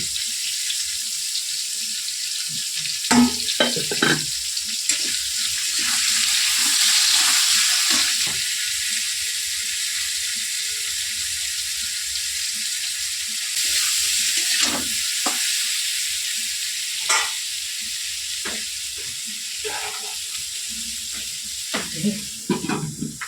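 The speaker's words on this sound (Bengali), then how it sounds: "নুন দিয়ে ভাজলে ভাজাটা ভালো হবে।" Salted cut vegetables, potato, green papaya and raw plantain, fry in spiced oil, with a steady hiss of sizzling and bursts of stirring scrapes and clatter close by.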